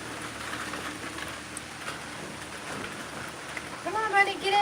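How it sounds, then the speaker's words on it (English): Steady rain falls outdoors as a soft, even hiss of drops on surfaces, with some faint scattered sounds near the end. "It's raining."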